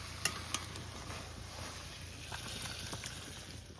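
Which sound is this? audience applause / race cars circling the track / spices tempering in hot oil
spices tempering in hot oil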